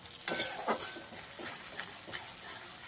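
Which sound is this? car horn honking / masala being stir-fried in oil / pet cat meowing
masala being stir-fried in oil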